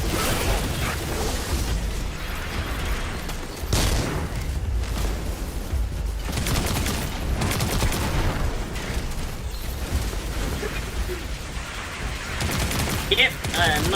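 Video game gunfire rattles in dense, uneven bursts and volleys with occasional heavier booms, loud and continuous throughout.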